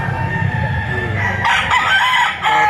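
Rooster crowing loudly and close by at a chicken market in Batangas, one long strained call rising and holding over background market noise.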